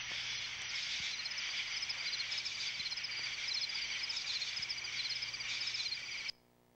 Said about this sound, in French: un essaim d'insectes